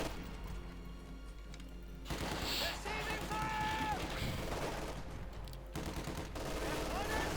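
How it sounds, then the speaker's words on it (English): MG42 machine gun fire in Company of Heroes 2, dense bursts of rapid gunfire and battle noise that swell and fade over several seconds, with other game sounds mixed in. "as the MG42 tears them apart"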